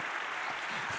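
Brief burst of audience applause at a live talk event, a dense, even wash of clapping at moderate volume with no gaps.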